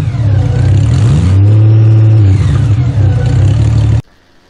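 A flat-six motorcycle engine revs loudly up close, rising and falling in pitch with a deep hum, then cuts off abruptly.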